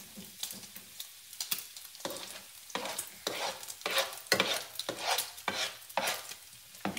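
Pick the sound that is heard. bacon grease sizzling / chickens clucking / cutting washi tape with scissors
bacon grease sizzling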